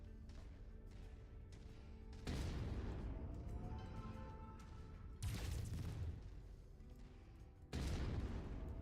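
Slow-firing cannons in the MechWarrior video game boom three times at spaced intervals, each a loud heavy blast with a rumbling tail, over a steady background hum of the game.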